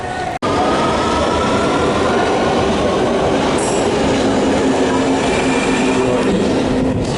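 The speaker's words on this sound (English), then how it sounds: "See the wind, that's the piston effect of the train." A London Underground Central Line train rushes into the platform with a loud, continuous roar of piston-effect wind and rumbling wheels that fills the whole stretch, a brief thump at the start and a faint squeal partway through.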